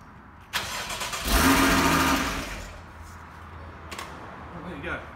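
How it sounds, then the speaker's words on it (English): Porsche 981 Boxster engine cranked over without fuel, the starter whirring and churning for about two seconds without firing, followed by quieter mechanical clicks and ambient noise. "I'm just going to crank it over a couple of times"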